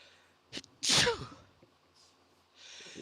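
A single loud, close sneeze from someone with a pollen allergy, preceded by a quick sharp intake of breath and followed by quiet breathy sounds.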